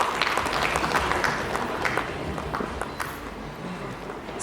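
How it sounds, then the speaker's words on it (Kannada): An audience at an app launch event gives loud, dense applause that starts strong and gradually thins and softens toward the end, with scattered sharper claps standing out. "ಆಡಿಯನ್ಸ್ ಜೋರಾದ ಚಪ್ಪಾಳೆ ಅಂದ್ರೆ."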